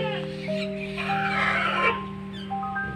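Pekin bantam chickens, an actively laying breed from China, cluck and call close by in a continuous run of short, tonal clucks and drawn-out notes that overlap one another.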